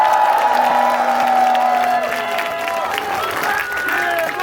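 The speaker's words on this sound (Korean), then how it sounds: "위에서 박수 한번 쳐주십시오" Protesters at an outdoor rally at the Gwacheon election commission clap and cheer loudly, a full sustained burst of crowd applause mixed with scattered shouting voices.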